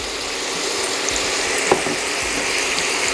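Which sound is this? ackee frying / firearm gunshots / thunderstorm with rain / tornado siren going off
ackee frying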